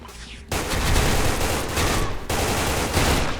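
SIG551 rifle fired in the video game Special Force 2, loud dense sustained bursts of automatic gunfire that fill the clip, with a brief pause between volleys and no speech.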